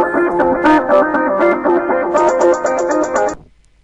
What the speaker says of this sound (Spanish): Ese es un sonido de bienvenida para cuando ustedes entran a un servidor.